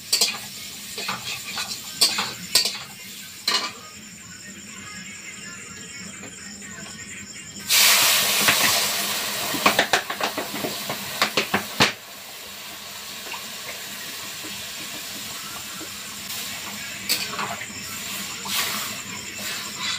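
Water goes into a hot fish curry of kaan magur catfish with taro and potato. After some scattered clatter comes a loud rushing hiss lasting a few seconds, then a softer steady bubbling.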